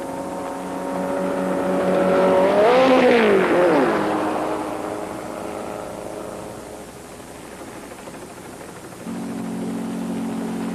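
A stunt car makes a test approach to a jump ramp over the Colorado River, its engine droning loudly and steadily, swelling and pitching up and down as it passes, then easing off before a steady hum returns.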